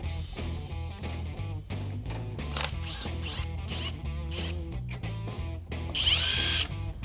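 A power tool spins out the transmission pan bolts on a 1976 Cadillac hearse, in short, loud bursts of whirring under steady background music.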